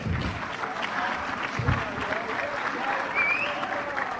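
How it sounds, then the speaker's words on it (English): Members of parliament clap together in the chamber during a session, a steady burst of many hands applauding at moderate distance for several seconds, with no speech standing out. "Would like to clap hands."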